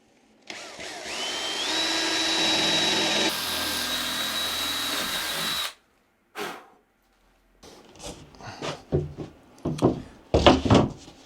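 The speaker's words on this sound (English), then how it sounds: "The first job is to get 4 holes drilled into this for the star knobs to go through." A handheld power drill runs steadily for about five seconds boring 8mm holes into a portable folding tabletop, its whine holding a rising pitch, then stops and is followed by scattered knocks, clunks and handling sounds nearby.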